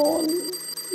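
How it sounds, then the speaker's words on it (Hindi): A steady electronic alarm clock rings in a bedroom at night, its continuous tone sounding throughout alongside a low murmur. "अलार्म बज रहा है।"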